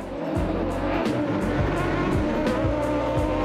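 Autocross race cars in an FIA European Autocross Championship final at Vilkyčiai accelerate hard off the start on a dusty track, engines roaring loud and close in a steady, dense rush with repeated revving surges and brief gear-change dips.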